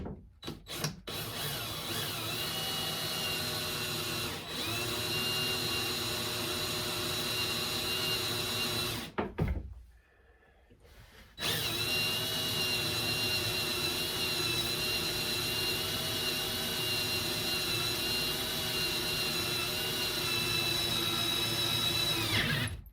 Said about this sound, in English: I'm gonna go ahead and drill this hole.